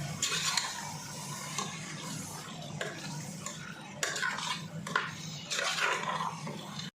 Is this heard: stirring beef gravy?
yes